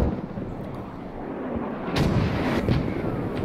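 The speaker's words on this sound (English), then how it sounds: "Those mortars are close, but just not quite on target." In the Squad video game, mortar shells land nearby in a rolling series of booming impacts, the rumble thickening after a couple of seconds with several sharper cracks layered over it and no speech.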